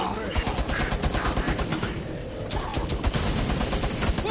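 Rapid, dense gunfire rattles without pause in the video game Rainbow Six Extraction, with overlapping bursts from several weapons filling the whole stretch at close range.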